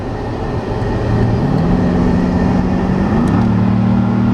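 C6 Corvette engine with a four-gear transmission accelerating, a loud steady drone that steps to a new pitch at two gear changes, heard from inside the car without talk.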